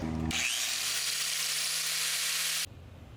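An angle grinder shapes a metal part during rear wheel bearing work on a Lexus RC F: a loud, harsh whine that starts abruptly, holds steady for a couple of seconds, then cuts off to a low rumble.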